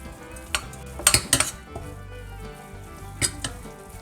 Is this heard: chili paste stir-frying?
yes